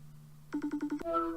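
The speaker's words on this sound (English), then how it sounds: "Let me try calling Joey so he can join back and take Gordon's spot." An outgoing call rings through, a low steady dial tone followed by a quick burst of five pulsing electronic beeps and then a brighter sustained chime, faint and brief.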